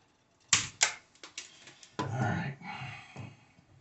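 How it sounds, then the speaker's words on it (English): Wire cutters snip a wire during a motion-sensing switch replacement: two sharp close clicks, a few lighter taps, then rustling handling noise, with no voices. "So we're going to cut about half of that off."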